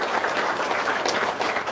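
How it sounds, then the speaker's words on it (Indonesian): A short burst of applause from a crowd, dense scattered clapping at moderate volume. "Tepuk tangan dong"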